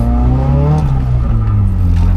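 A screamer-piped 200 BHP Toyota Starlet engine revs loudly and close, its rasping exhaust note sweeping up and down in pitch without pause.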